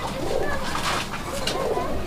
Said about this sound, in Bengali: মেবি এটা হচ্ছে গররা কবুতর একটা পেয়ার